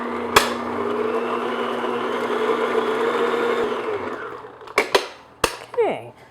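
An electric mixer beats egg and vanilla extract into low-fat brownie batter, a steady whirring hum held for about four seconds before stopping, followed by a few sharp clinks against the bowl.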